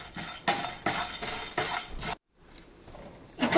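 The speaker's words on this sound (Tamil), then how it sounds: "இது வந்து ஒரு மிதமான சூட்டில் பொன்னிறமாக வர்ற வரைக்கும் வறுத்துக்கோங்க." Spices dry-roasting in a pan over medium heat, stirred with a metal spoon that scrapes and clinks in quick bursts, close and clear, with a short silent gap partway through.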